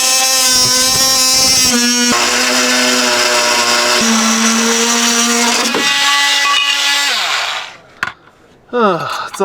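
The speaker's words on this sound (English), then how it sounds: "So I'm drilling through the bottom of the camper here in the corner, and then I'm going to just drill through the spray foam." A power drill bores through the bottom corner of a camper floor and into spray foam, droning loudly and steadily for several seconds, its pitch shifting as it bites, then stopping and giving a couple of short bursts.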